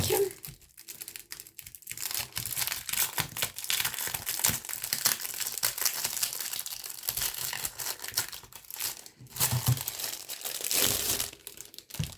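Small thin transparent plastic plates for a cutting machine being opened from their packaging, close crinkling, crackling and tearing in irregular bursts with brief gaps, fairly loud and near.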